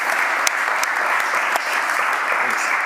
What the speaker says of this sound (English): first the applause